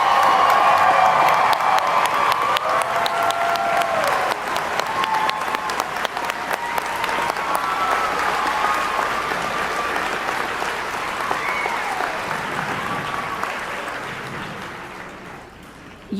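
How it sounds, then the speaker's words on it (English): A commencement crowd at Central Ohio Technical College applauds its graduates with loud, sustained clapping and a few whoops, a broad roar of hands over lingering organ tones that slowly softens near the end. "Now let's give these graduates a round of applause."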